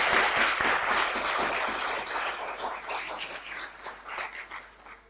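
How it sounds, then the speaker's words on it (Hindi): An audience applauds a teacher at the close of an ICAP revision session on salary, a dense steady clapping that fades gradually toward the end. "एक बार फिर सर के लिए भरपूर तालियां।"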